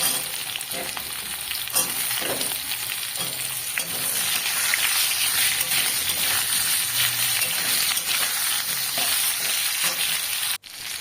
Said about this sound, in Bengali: আলুগুলো একটু লালচে লালচে করে ভেজে নেব